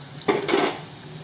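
Gongura chutney with turmeric and asafoetida is stirred in a frying pan, giving two quick scraping strokes over a faint sizzle, brief and close.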